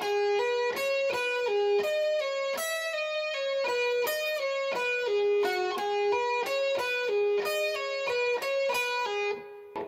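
Fast pentatonic lick on electric guitar, clean and bright, with rapid picked notes in a steady repeating pattern that cycles through two linked phrases, played alone and up close for about ten seconds.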